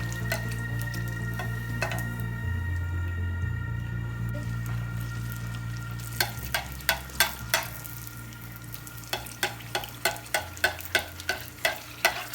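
Gol gappa dough puffing as it fries in hot oil and is turned over, a close, steady sizzle with a run of sharp clicks and taps in the latter half, no talking.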